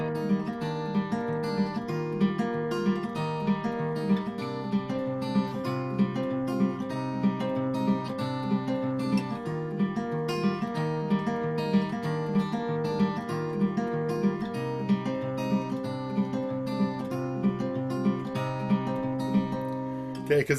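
An acoustic guitar plays a fast fingerpicked pattern in a steady, rolling rhythm of repeated plucked notes, clear and continuous for about twenty seconds with no voices.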